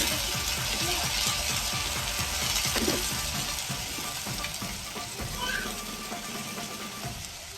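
Vegetables for undhiyu hit hot garlic oil in a pan, giving a dense, steady sizzle up close with scraping and clattering of a spoon against the pot throughout, slowly easing off.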